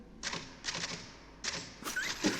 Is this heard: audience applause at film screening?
no